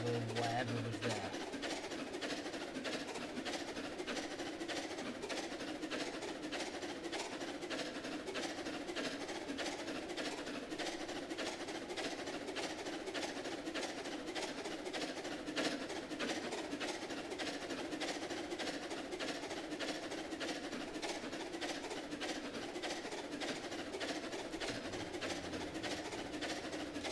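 A train runs along a narrow gauge railway in the Roblox video game, a steady rumbling drone with a fast, regular clickety-clack of wheels over rail joints that stays even and continuous throughout.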